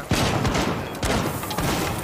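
A loud volley of gunshots in Rainbow Six Siege comes in three heavy bursts over about two seconds, close and booming, with no talk over them.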